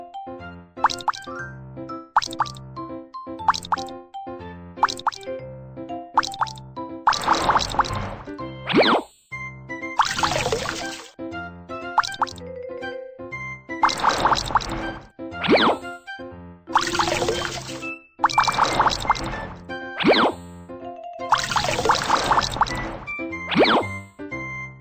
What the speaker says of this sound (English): Tap to wring water out.